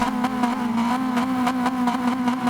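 Race car engine in Gran Turismo 7 held revving at the start on the handbrake, a loud steady drone with regular pulsing bounces off the limiter.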